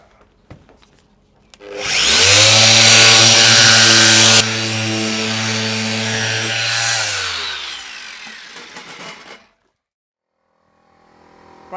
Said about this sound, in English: So, more sanding.